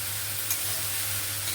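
Pasta mixture stirred continuously in a frying pan, giving a loud, even, close sizzle with a soft hiss throughout and a faint scrape near the middle, with no voices.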